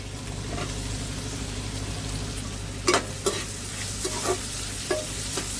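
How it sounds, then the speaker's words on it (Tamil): Onion and tomato sautéing in a pan, a soft continuous sizzle with several sharp scraping stir strokes toward the end, no talking. "இதெல்லாம் நல்லா வதக்கிக்கலாம்."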